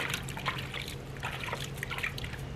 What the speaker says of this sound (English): I've just put a real thin layer of water on top